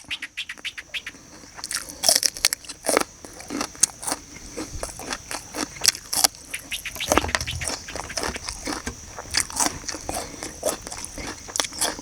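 Someone eats fresh raw shrimp salad outdoors in a rice field, with repeated close crunching bites and wet chewing that come in irregular bursts, and faint background sounds in between.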